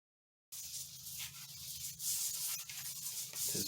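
Fine 5000-grit sandpaper rubbed lightly over the frets of an Indio Cali Classic guitar during a setup, giving a steady, close, soft abrasive hiss with faint strokes and no talk.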